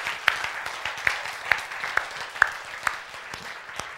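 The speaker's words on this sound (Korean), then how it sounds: "그럼 이때 박수 한번 칩시다." Sparse clapping from a small audience at a Korean Bible-science lecture, a few sharp individual claps standing out over a thin, soft patter.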